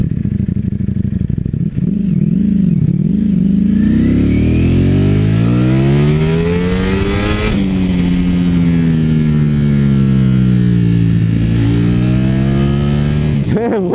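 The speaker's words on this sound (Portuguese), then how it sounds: "A moto é violenta demais" A Ducati Streetfighter V4S motorcycle engine revs loudly and close, its pitch sweeping up and down through several throttle blips before a sustained high rev that slowly falls and rises again.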